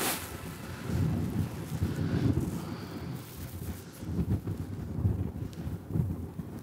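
Wind buffets the microphone on an open links golf course, coming as low, rumbling gusts that swell and fade, with a soft steady rush behind them and no talking.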